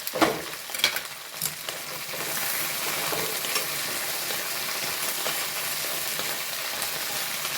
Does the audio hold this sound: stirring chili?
yes